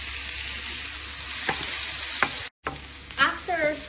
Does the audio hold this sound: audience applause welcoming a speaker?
no